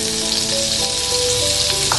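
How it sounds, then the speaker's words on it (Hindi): Butter melts and sizzles in a pan for chicken chilli sauce, a steady dense hiss with faint crackles, close and constant, with no voices. "सबसे पहले ये मक्खन"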